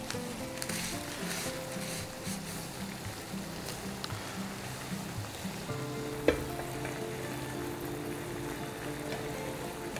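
Noodles frying in a pan after salt, light soy sauce and oyster sauce are added, making a steady, close sizzle throughout with a brief clatter of stirring near the middle.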